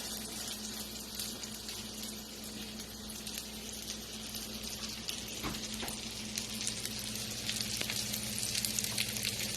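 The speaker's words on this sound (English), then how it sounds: "turn them so they can get some of that bacon grease on the other side" Soup bean patties frying in bacon grease, a soft constant sizzle and crackle with a few faint spatula taps, rising slightly toward the end, no speech.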